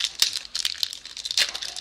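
A sealed trading card package is torn and crinkled open from the bottom in a few quick, close, crackling bursts of plastic, with no one talking.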